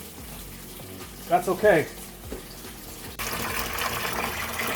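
A garden hose from a house spigot flushes the coolant system of a 1989 Chevy truck. A short gushing splash comes first, then a steady rush of running water, with someone briefly speaking.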